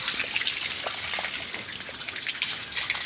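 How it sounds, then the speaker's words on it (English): Water flows from a pipe in a steady, close gush with bubbly spattering, a bit softer and more broken up, and no one speaks. "And it flows like that."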